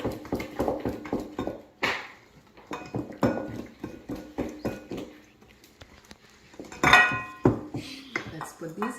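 Vegan banana muffin batter being mixed in a bowl, with a rapid rhythmic series of spoon knocks and scrapes against the bowl in bursts, a louder clatter near the end, recorded close with no talk.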